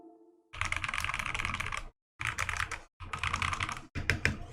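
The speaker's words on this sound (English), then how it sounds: "If a brick was a keyboard, I feel like it would sound like this." Keys clatter on a budget modded mechanical keyboard lined with thin foam, producing dense, fast typing bursts up close. The bursts come in several runs separated by brief silent pauses.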